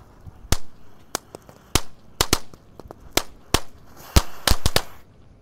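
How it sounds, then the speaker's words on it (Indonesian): A rapid series of sharp bangs from a tank-type firecracker, about a dozen irregular cracks popping close by, some in quick pairs, with brief fizzing between them. "untuk pemanasannya kita nyalakan di sini ada mercon tank"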